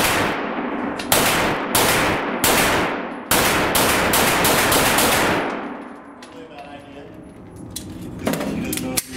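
A Beretta 92FS semi-automatic 9mm pistol fires a rapid string of loud, close shots at an uneven rhythm, then the reports stop and faint movement and voices follow.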